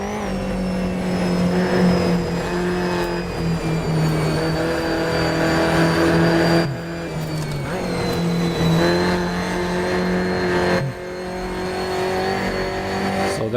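A classic racing car, a Jaguar E-Type or a Ferrari, at the historical 1967 Nordschleife. Its engine drones loud and close for the whole stretch, with pitch rising and falling through gear changes and revving.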